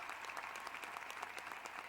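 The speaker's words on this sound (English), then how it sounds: "Give him a round of applause." Audience applause at a 1989 high school graduation ceremony, a steady wash of many hands clapping, fairly quiet and distant throughout the short stretch.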